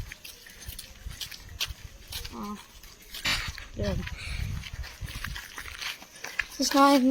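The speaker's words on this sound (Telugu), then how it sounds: "ఇక్కడ ఈ కాలనీలో ఒక కుక్క ఉంటుంది" A dog whimpers and yelps a few times in short, scattered bursts, mixed with rustling and faint movement noise nearby.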